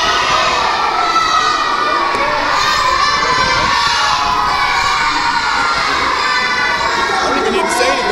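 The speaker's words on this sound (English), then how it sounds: "Crowd here in the battle zone, catcalling Karryt." A dense, loud crowd at a wrestling event in the battle zone shouts, jeers and catcalls continuously, with many high children's voices in the mix.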